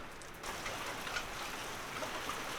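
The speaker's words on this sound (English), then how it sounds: "This is rain in the desert." Steady rain falling in the desert near Tucson, Arizona, a continuous even hiss of drops on surfaces that swells slightly after the first half second and holds alone with no talk.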